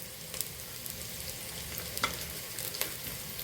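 Chopped onion and cabbage sauté together in a pan for wheat carrot noodles, giving a soft continuous frying hiss broken by a few quick scraping clicks of a spatula stirring.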